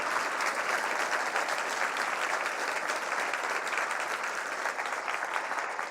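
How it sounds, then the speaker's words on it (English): Sustained audience applause for Justice Ginsburg at a law school ribbon-cutting ceremony, a dense, steady wash of clapping from a large crowd that holds at an even level throughout. "Let's give her another round of applause."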